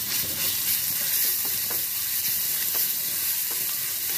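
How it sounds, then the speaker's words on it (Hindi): Ginger garlic paste fries in hot oil in a pan, a steady, close sizzle with occasional scraping taps from stirring and no voices. "1/2 teaspoon ginger garlic paste add करेंगे, इसे भी हम फ्राई कर लेंगे ताकि इसका कच्चा टेस्ट ना आए।"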